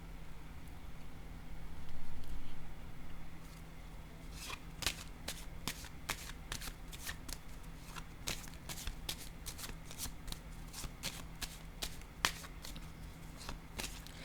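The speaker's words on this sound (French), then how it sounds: "Je vais déposer une autre carte." Tarot cards shuffled close by in a quiet room, a soft riffle at first, then a run of crisp, sharp card snaps and slaps as cards are laid down at an irregular pace.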